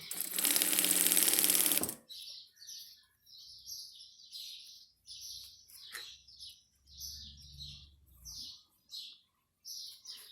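A sewing machine stitches bag lining fabric in one short, loud, close burst at the start, then falls quiet, leaving only sparse chirping bird calls in the background.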